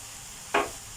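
Fresh shiitake mushrooms and onion hitting a hot pan for a Thai vegetable stir-fry, a single sudden sizzling burst that swells and then fades over a fraction of a second, alone against quiet kitchen background.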